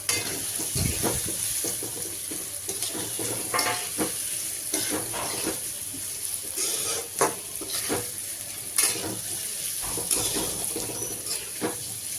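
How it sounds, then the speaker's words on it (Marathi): Boiled, finely chopped potatoes and green chillies sizzle and fry in a pan, with repeated stirring and scraping strokes over a steady hiss, close and fairly loud, no talking. "आता मी बटाटा टाकते आणि परतून घेते दोन्ही पण।"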